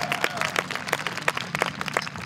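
Scattered, uneven clapping from an audience at a campaign event for NC State Treasurer, individual sharp claps popping out of a thin, moderately quiet round of applause.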